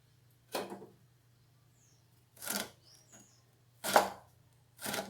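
A knife chops turnip on a board in four separate, sharp strokes spaced about two seconds apart, close and clear against a quiet room, with no talking.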